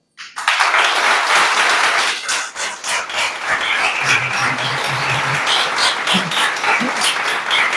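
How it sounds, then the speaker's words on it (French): An audience at a talk on finding one's path applauds firmly on request, a sudden burst of dense clapping that holds steady for several seconds with a faint low hum underneath. "je veux que vous applaudissiez avec conviction"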